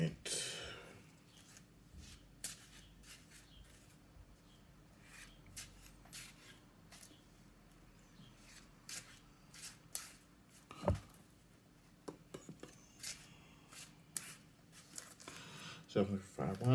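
A Marvel Legendary card game deck is shuffled close by, with soft, repeated riffling and card rubbing heard in quiet bursts over several seconds, with light talk at times.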